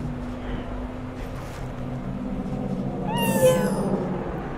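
A kitty meows in Cyberpunk 2077, one short rising-and-falling cry near the end over a steady low engine-like hum and background game ambience.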